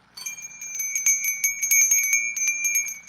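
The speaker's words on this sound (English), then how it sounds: "Let's ring the bell." A bell rung repeatedly in a quick, uneven series of bright metallic strikes with sustained ringing tones, loud and close, with no talking.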